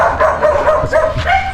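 A dog barks nearby in a Jamaican setting, several quick loud yipping barks in an uneven burst with a whiny edge, no talking over them.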